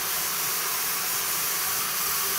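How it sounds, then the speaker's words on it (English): Steam vents from a canning kettle while venison is canned, a loud, steady, close hiss that stays constant throughout without pauses or talk. "I can feel the steam coming out."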